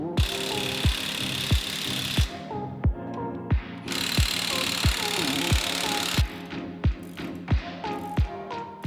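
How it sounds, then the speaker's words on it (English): Ratchet spanner clicking in a steady, loud series of sharp ticks while checking suspension and steering bolts on a V12 twin-turbo BJ40 LandCruiser, with brief pauses between bursts of turning. "a spanner check of all the suspension, steering and brake components is necessary"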